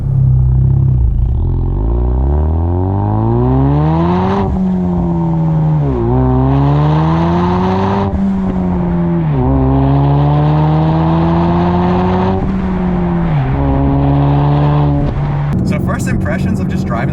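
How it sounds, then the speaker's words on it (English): Ford Mustang EcoBoost pulling away from first gear, its engine note climbing steadily and dropping at each gear change, loud and continuous from inside the car, with a driver talking over it. "let's go in from first gear and just kind of see how the car feels"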